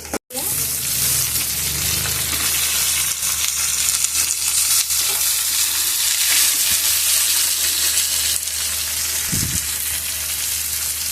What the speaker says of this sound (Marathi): टाकून घेऊया लसूण आणि अद्रक। त्याला 2 मिनिटं परतून घेऊया।